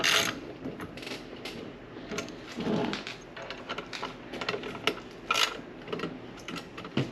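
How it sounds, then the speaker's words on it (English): A hand ratchet clicks in quick bursts while tightening bolts on tailgate gate hardware for a 2022 Toyota Tundra, close and fairly quiet, with short pauses between strokes. "I'm just going to tighten down the same 2 bolts."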